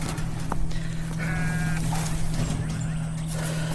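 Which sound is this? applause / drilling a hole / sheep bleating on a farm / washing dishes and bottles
sheep bleating on a farm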